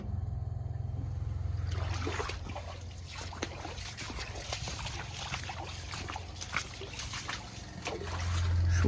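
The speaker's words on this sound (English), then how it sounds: "So that first filter's filling up nicely" Diesel fuel trickles into the first fuel filter of an M35 military truck, a soft irregular dribble with small splashes over a steady low hum, close by.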